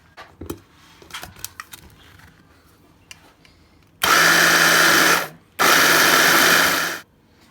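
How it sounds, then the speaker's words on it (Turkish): Food processor grinding biscuits, walnuts, cinnamon and salt, running in two loud, steady bursts of about a second and a half each with a short gap between, after quieter kitchen clatter. "Rondodan geçireyim."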